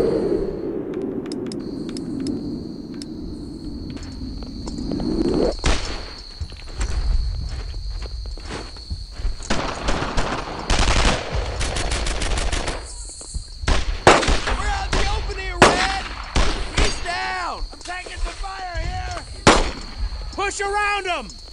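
In the World War II shooter Brothers in Arms: Earned in Blood, rifle and machine-gun fire crack in repeated sharp bursts mixed with footsteps and ambient tones, while voices shout in between.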